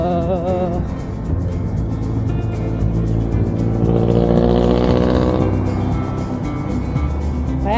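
Traffic near Los Baños on the road up Mt. Makiling, heard from a bicycle: a steady, loud rumble of car engines with one vehicle swelling closer and passing mid-clip, with no talk.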